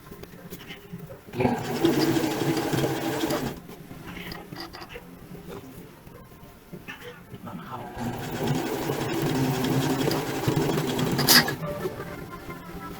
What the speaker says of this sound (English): Fold the elastic inside and secure with a straight seam and twin needle.